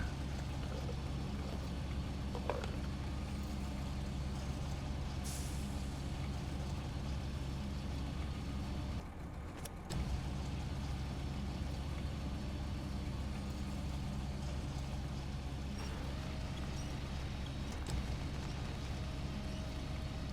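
A heavy truck engine in the video game SnowRunner hums steadily at a low pitch, with a brief dip and a few short clanks partway through.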